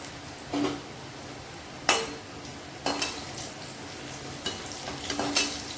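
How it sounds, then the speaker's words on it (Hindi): Garlic and green chillies frying in a pan before okra goes in, a constant close sizzle broken by several sharp scrapes and clinks of a spatula against the pan. "लहसुन और हरी मिर्च जब गोल्डन कलर हो जाएगा, फिर मैं इसमें डालूंगी भिंडी"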